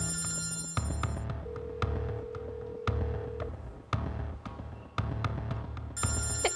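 A telephone rings in a Turkish drama scene, its bell trilling in repeated bursts over a low throbbing hum, fairly close and with no talk over it.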